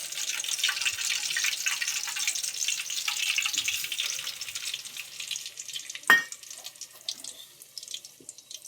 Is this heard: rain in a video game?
no